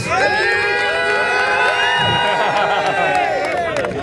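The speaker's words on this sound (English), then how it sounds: "Somebody's cheering for them." A crowd at a trophy distribution event cheers continuously, with loud shouts, whoops and high children's voices blending into a dense, sustained roar for several seconds.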